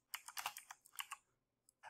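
Someone types on a computer keyboard while coding, a quick, uneven burst of crisp key clicks followed by a pause and a few more taps, close and fairly quiet.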